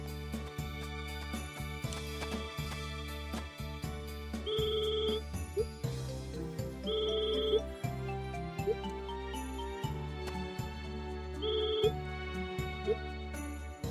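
In the Harvest Moon: Animal Parade video game, a bright bell chimes several times over looping, steady game music, with short ringing tones recurring every few seconds and no one talking.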